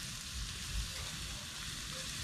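Shallots fry in hot oil in a pan for a Vietnamese snail and guava salad, giving a constant close sizzle and crackle with no talk.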